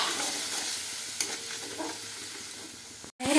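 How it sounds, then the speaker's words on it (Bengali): Spice masala frying in a pan with a little water for a Bengali egg curry with mixed vegetables, a steady close sizzle broken by a few stirring scrapes before cutting out briefly near the end. "আমি একটু সামান্য অল্প পরিমাণে একটু জল দিচ্ছি, যেন মশলাটা তলায় পুড়ে না যায়।"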